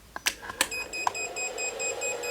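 A resistive load on a MiniPro dyno during LiPo battery testing emits a steady string of short, high electronic beeps after a few sharp clicks, close and alone with no talk.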